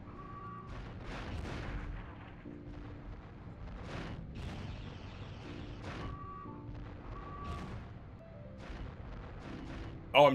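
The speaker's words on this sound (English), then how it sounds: "I'm detonating the round too early" Scattered booms from detonated rounds in the video game Future Cop LAPD, several bursts spread over a dense mix of game effects and beeps, with one sharp louder blast right at the end.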